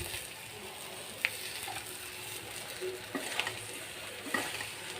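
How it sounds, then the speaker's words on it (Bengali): Sliced sponge gourd (dhundul) frying lightly in a pan gives a steady close sizzle, broken by a few sharp clicks and scrapes of stirring. "তো এখন আমি এই যে দুন্দুল ভাজিটা দিয়ে দিই, কেটে রাখা দুন্দুল।"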